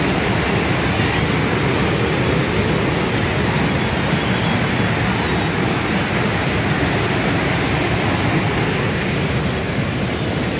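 Water pours and spills over in a steady, loud, broadband rush like a waterfall, continuous and unbroken throughout with no voices.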